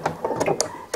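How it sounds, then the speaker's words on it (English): A sewing machine running back stitches on placemat fabric, a brief burst of quick mechanical whirring and clicks, close and alone. "So I'm going to do a couple of back stitches."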